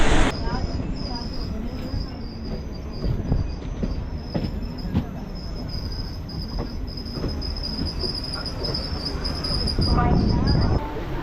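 A daily MEMU passenger train on the Chennai Beach to Tiruvannamalai service pulls out of a station, with a steady rumble of rail noise and wheel clatter, a sustained high squeal running throughout, and faint chatter in the background.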